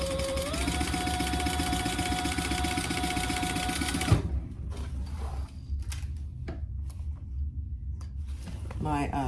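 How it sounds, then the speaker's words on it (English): A sewing machine top-stitches a clutch organizer wallet, running in a steady rapid whir for a few seconds before stopping abruptly, followed by quieter handling clicks and rustles. "My sewing machine was making a weird noise."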